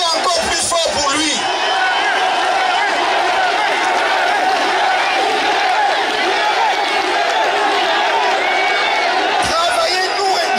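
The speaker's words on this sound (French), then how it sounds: "Applaudissez encore plus fort pour lui." A large crowd at a Cameroonian MRC political rally in Paris roars, whoops and applauds in a loud, continuous wash of cheering and babble, with sharper shouts standing out near the start and end.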